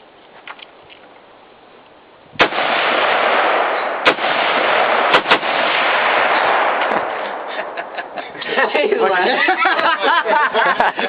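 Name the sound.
AR-15 rifle gunshots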